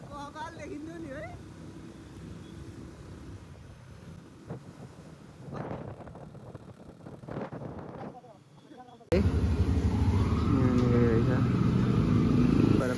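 A motorcycle ridden on a road from Itahari to Dhankuta in Nepal: a steady engine drone with wind buffeting the microphone, growing louder and rougher near the end, with a voice talking over it.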